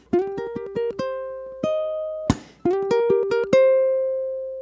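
Bright ukulele blues rock riff in quick plucked bursts with sustained notes between, a single muted strum in the middle, ending on a long ringing note.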